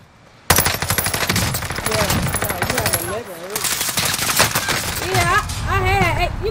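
Rapid bursts of automatic gunfire in a video game, loud and continuous, with voices talking over the shooting.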